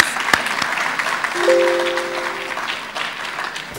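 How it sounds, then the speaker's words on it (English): An audience at a youth leadership forum breaks into a sustained round of applause, dense steady clapping filling the room, with a brief spoken word near the start and a faint tone running underneath. "So let's give him another round of applause"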